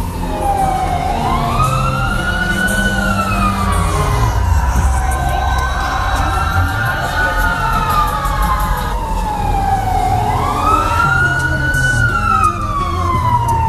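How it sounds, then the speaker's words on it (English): Fire engine sirens wail in repeated rising and falling sweeps along a busy city street at Christmastime, loud and continuous over a steady bed of traffic and crowd noise. "Don't mind them fire engines."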